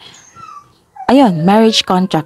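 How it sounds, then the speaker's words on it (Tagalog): A dog yips and whines in short, loud bursts close by, overlapping with a person talking. "pasensya na po sa ingay, maingay po yung aso namin"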